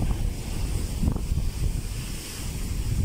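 Sea waves and strong wind at a shoreline after a typhoon, with a steady surf wash and heavy wind buffeting the microphone, continuous and fairly close with no talk.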